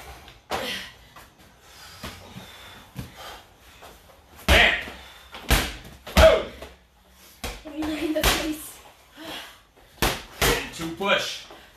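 Slams hit the floor during a bootcamp workout, several sharp, loud impacts spaced irregularly among breaths and shuffling movement.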